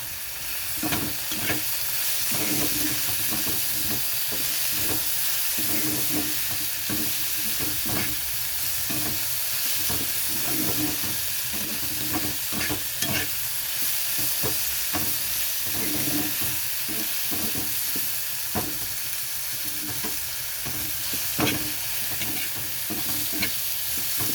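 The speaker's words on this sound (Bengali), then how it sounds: "এটা এখন ভাজা হবে।" Bimli greens and potatoes fry in mustard oil in a pan with salt and turmeric, giving a loud, constant close sizzle broken by repeated scraping stirs of a spatula.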